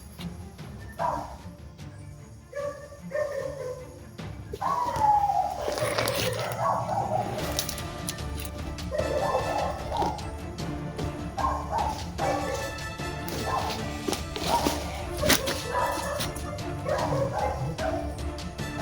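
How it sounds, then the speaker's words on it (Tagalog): Several dogs bark repeatedly, some near and some farther off, in irregular bursts over a steady night-time background. "Sobrang ingay ng aso."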